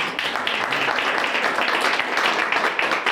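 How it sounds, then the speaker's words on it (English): An indoor audience at an open-stage show applauds, a dense, steady wash of many hands clapping at close range for a few seconds. "Yeah, you can clap them."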